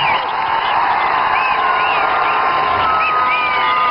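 A school crowd of children cheering and clapping at a public school event, continuous loud shouting and whoops with high voices rising over a constant roar of the group.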